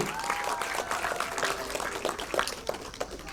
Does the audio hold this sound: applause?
yes